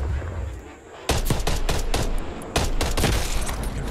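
Rapid automatic gunfire from the Call of Duty Cold War game, loud and close, arriving in two sustained bursts of sharp repeated shots after a quieter opening moment.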